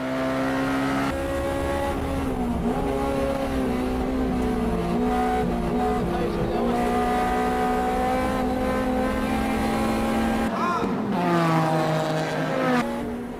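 Two Honda S2000 race cars battling on track, engines droning loudly at high revs with pitch dips through gear shifts and a sharp rise near the end, continuous and close.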